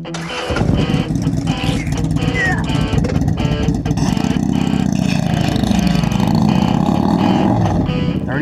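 A motorcycle engine fires up and runs loud and close, holding a steady, heavy rumble with slight rises in revs as it rides off.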